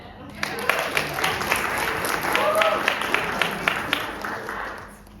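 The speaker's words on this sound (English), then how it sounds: "Clap for that." Audience applause at a creativity talk in Buffalo, a dense burst of clapping with whoops and cheers rising and falling, fairly loud and close, with some voices over it.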